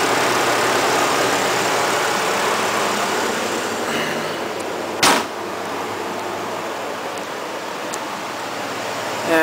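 A Vortec 3700 engine in a Chevy Colorado truck idles steadily, a constant low rumble with broadband hiss close by, broken by one sharp click midway, no talk.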